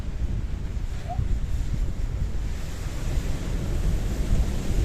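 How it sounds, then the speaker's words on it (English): Strong wind buffets the microphone at a harbour in Paphos, Cyprus, a continuous low roar and rumble with gusty swells that stays loud and steady for the whole stretch, with no speech. "The wind's quite strong today, isn't it, Gracivia?"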